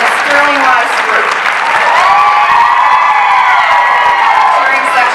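Audience at a dance event cheers and applauds steadily, dense clapping with whoops and shouts from a large crowd, loud and continuous.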